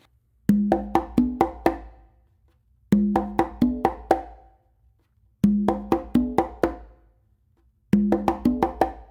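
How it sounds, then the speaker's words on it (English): Conga pattern of an open tone on the tumba followed by close slaps on the conga, played in four short repeated bursts of rapid, sharp hand strikes with brief silences between, close and clear with no talking. "you're going to do an open on the tumba to your non-dominant side, and then a close slap with your dominant hand and a close slap with your non-dominant hand on the conga"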